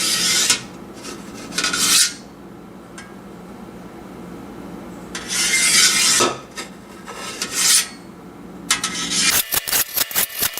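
Goat milk curds for Monterey Jack cheese being cut into half-inch cubes in a pot, with bursts of scraping and rasping from the knife against the pot, some clinks and rattling between strokes.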